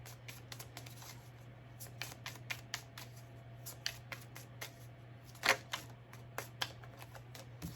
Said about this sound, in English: I just want to shuffle the cards real aggressively